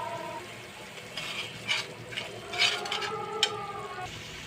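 Spice masala for chicken biryani fries in oil in a pan, a soft steady sizzle broken by several scraping stirs and clinks, fairly quiet and without talk.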